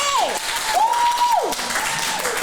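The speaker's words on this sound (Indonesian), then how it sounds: "Tepuk tangan lagi." Applause from a small audience at an Indonesian podcast recording, steady and close for a few seconds, with a bright tone gliding up and down over the clapping.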